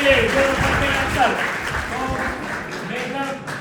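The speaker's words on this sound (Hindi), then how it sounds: "रुशाली की जोरदार तालियां होना चाहिए" Students clapping for a classmate in a classroom during a lively maths seminar in Ghodegaon, Pune, a steady burst of applause with voices talking over it throughout.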